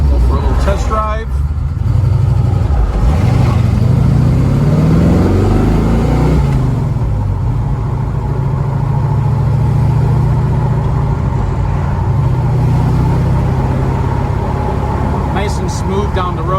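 A 1968 Chevrolet Camaro driving on a road, heard from inside as a loud, steady low engine drone with one accelerating rise early on, while someone talks briefly over it.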